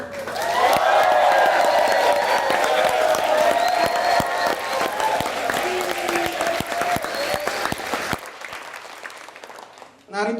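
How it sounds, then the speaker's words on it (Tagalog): Loud, dense applause and cheering from a crowd at a Partido Obrero campaign rally, with voices shouting over the clapping before it cuts off abruptly near the end. "maaari pa akong humingi ulit isang napakalakas na palakpakan at hiyawan para sa buong partido ng Obrero"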